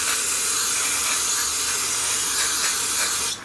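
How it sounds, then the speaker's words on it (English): A continuous close hiss of aerosol throttle body cleaner sprayed onto the throttle body and throttle plate of a Jeep Compass, one steady spritz of a few seconds heard alone. "giving her a little spritz of some throttle body cleaner"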